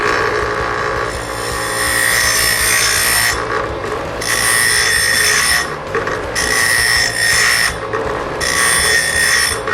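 A grinder deburring the chop-sawed end of cut square steel tubing, a loud continuous abrasive rasp that swells and dips in bursts as the tube end is pressed against it, with no talking.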